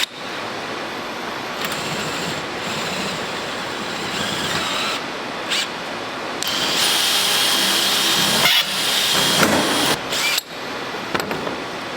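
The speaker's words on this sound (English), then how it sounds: "We're gonna drill it out." A power drill bores into the lock of a Yukon toolbox up close, grinding in long bursts with short pauses between them and growing harsher as the bit bites into the metal.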